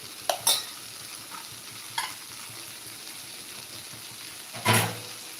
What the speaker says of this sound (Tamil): நம்ம வேக வச்சுட்டு வறுக்கிறதுனால ரொம்ப நேரம் இது பண்ண வேண்டியதில்லை சட்டுன்னு வெந்துடும்